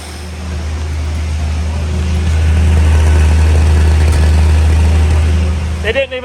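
A 1971 Ford Maverick barn-find engine idles steadily and close, its low mechanical drone holding level for several seconds, with a brief clatter of something else near the end.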